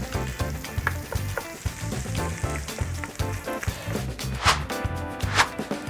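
Onions and garlic sizzle in a hot pan for shrimp and grits, a steady close crackle with stirring clatter and a few louder spits near the end.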